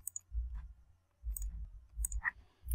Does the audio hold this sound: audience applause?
no